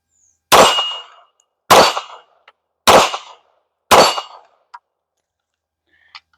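CZ 75 BD 9mm pistol fired at a small steel target outdoors: four loud, evenly spaced shots, each followed by a ringing metallic clang, with a couple of faint small knocks afterward.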